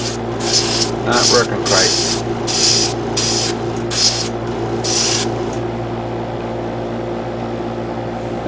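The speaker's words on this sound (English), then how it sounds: "I had to connect the airbrush directly to the compressor" Airbrush spraying paint while hooked straight to a compressor with no filter or regulator, giving seven short hissing bursts over a steady compressor hum, with someone talking briefly near the start.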